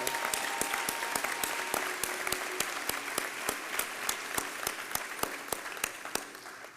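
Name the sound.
audience applause for ceremony speaker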